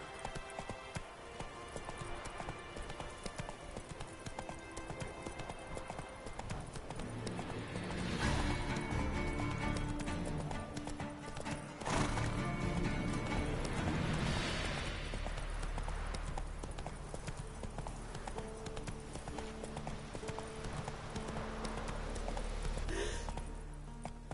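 Steady clip-clop of horse hooves while riding, from a PS4 video game, with a continuous rhythmic gait under busy game music and effects, a louder crash-like burst partway through, and a voice now and then.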